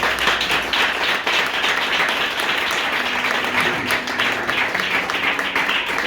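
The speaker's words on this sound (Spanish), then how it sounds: "Un aplauso a la palabra." A church congregation applauds after a sermon reading, a dense, steady wash of many hands clapping that holds at full strength throughout, with faint voices underneath.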